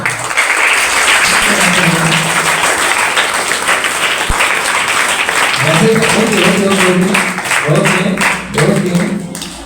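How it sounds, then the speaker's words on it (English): Students at a debate competition clap continuously in a large hall, a thick, even roar of hands. A voice speaks over it partway through and a sharp single knock cuts in briefly. "the students of Liberty should clap louder"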